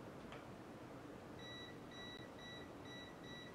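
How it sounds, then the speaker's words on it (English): An Aneng 8009 multimeter held near a live extension-cord wire gives a run of short, evenly spaced high beeps, faint and steady over quiet background hiss, about five pips in under two seconds. "you'll hear it beep when I get close"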